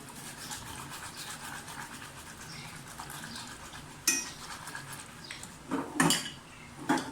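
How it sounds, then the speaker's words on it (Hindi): A spatula stirs chocolate sauce of milk, sugar and flour in a pan with soft continuous scraping, then a few louder clinks and knocks of the utensil against the metal toward the end. "स्पैचुला मुसलसल हिलाते जाएं"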